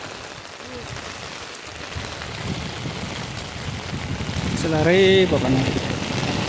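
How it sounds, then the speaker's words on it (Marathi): Heavy monsoon rain pours steadily onto a muddy, plowed rice paddy in Konkan, a dense hiss swelling slightly toward the end, with brief voices speaking over it. "पाऊस मोठा झाला."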